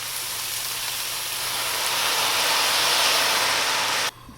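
Onions sweat in a pan with sugar and a splash of water, giving a steady close sizzle and hiss that swells slightly before cutting off abruptly near the end, with no talk.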